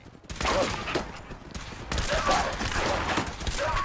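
Gunfire in the video game Fallout 4: dense, continuous bursts of rapid shots and blasts from a firefight, loud and sustained across the whole moment.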